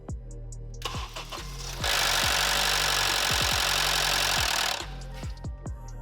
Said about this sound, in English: rattling noise upon cold startups is an issue. It's typically metal on metal sound for 1 to 3 seconds.